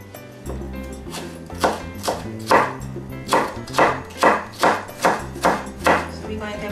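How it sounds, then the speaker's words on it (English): Knife slicing through a bell pepper on a cutting board, a steady run of about a dozen crisp, evenly spaced chopping strokes, close and fairly loud over faint background music. "I'm going to slice it."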